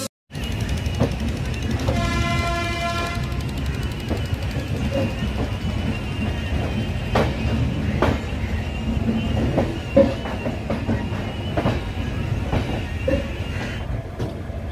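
The Amarpali Express rolls through a junction with a continuous loud rumble of wheels and carriages, while a horn sounds in a sustained blast near the start, followed by scattered clanks and squeals as the train runs on.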